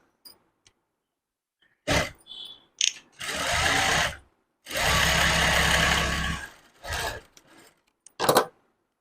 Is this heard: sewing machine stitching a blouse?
yes